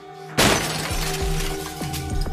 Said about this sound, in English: smashed my head through the glass roof